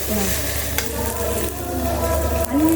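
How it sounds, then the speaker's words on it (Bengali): Turmeric-laced spice paste fries and sizzles steadily in a hot pan close by, with intermittent stirring scrapes and no voices. "মশলাটা দারুণভাবে ভাজা হচ্ছে।"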